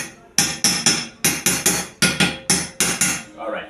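Roughly ten sharp metallic hammer blows strike a part being seated on a homemade fuelless generator, landing in an uneven rhythm of close, loud impacts, each ringing briefly before the next.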